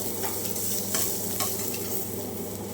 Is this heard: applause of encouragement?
no